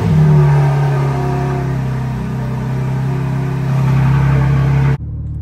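A BMW G80 M3 engine with a freshly reinstalled ECU runs at a steady, loud idle with a deep drone close by, then cuts off abruptly near the end; no talking.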